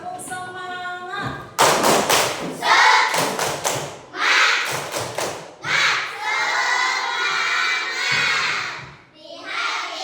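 A group of children claps a rhythmic spirit clap in a classroom setting, with loud bursts of patterned clapping mixed with shouted chanting voices, close and energetic.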